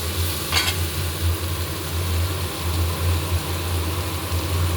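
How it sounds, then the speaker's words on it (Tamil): Steady sizzling and frying of vegetables sautéing in a pan, with a low continuous hum underneath and a brief scrape or stir near the start. "பாருங்கள், நல்லா வதங்கிட்டு இருக்குது."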